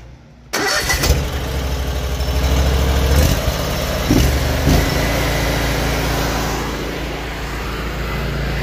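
A drain jetter's engine starts abruptly after a quiet moment, then settles into a loud, steady running rumble with a few bumps and knocks along the way.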